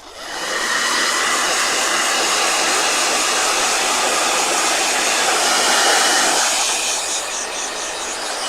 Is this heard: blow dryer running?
yes